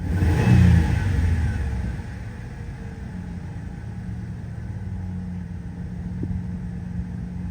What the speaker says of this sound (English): I'll rev it and see what happens.